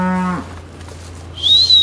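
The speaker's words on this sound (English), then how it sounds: "we'll load up some cows and calves into each pen" Cattle being loaded into a trailer on a farm: one loud, close moo with a rich harmonic tone fades out, then a thin high whistle-like squeal follows.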